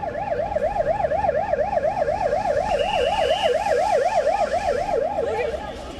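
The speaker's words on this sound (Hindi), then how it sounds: "सियोल के इटावन इलाके की सड़कों पर हर तरफ एम्बुलेंस के सायरन गूंज रहे थे।" Ambulance sirens wail through the streets of Itaewon in Seoul, a loud, continuous rising-and-falling electronic tone with a second siren layered over it and road traffic rumbling underneath.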